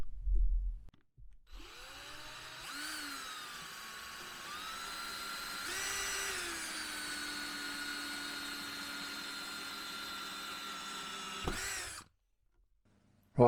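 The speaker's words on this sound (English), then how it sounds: "I've drilled all the holes for the glands in the bottom" Power drill boring holes in the bottom of an electrical box for cable glands in a self-build campervan, one long sustained whine that starts abruptly, rises in pitch, holds steadily for about ten seconds and then stops, close and alone.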